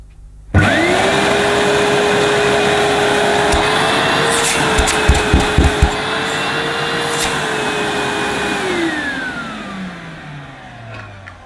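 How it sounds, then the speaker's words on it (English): A Vax Luna 3 in 1 vacuum cleaner switches on abruptly and runs with a steady loud motor whine, a few clicks and knocks partway through, then winds down as it is switched off. "But we'll first turn the cleaner on."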